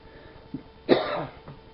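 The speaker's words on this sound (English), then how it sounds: "every time I turn on the camera I start coughing" A single sharp cough, close and brief, with a little throat noise before and after in a quiet room.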